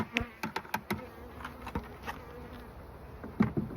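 A honeybee after-swarm buzzes nearby, a faint, thin hum crossed by sharp clicks and knocks from handling, with no voices.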